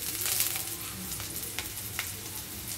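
Kangkong for adobo, cooked plain without meat or other add-ins, sizzles in a hot pan, a steady close frying hiss broken by a few soft stirring clicks and crackles.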